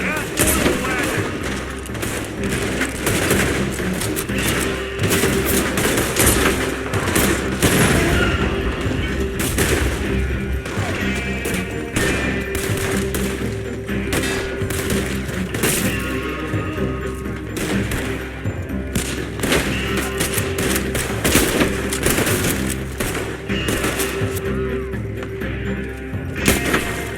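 Rapid gunfire in Red Dead Redemption 2 during a shootout around an oil wagon and a coach: dense, overlapping shots crackle steadily for the whole stretch over a busy background score.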